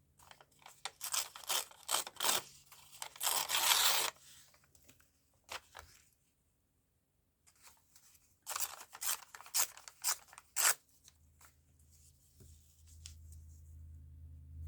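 Newspaper is torn by hand, close and crisp, in bursts of short ripping strokes separated by quiet pauses, with a faint low hum underneath.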